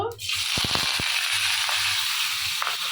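Dried fish (shutki) frying in a hot pan: a steady sizzle with a few clicks and rattles, heard close up.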